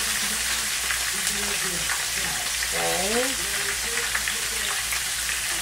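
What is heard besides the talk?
flounder frying in oil, sizzling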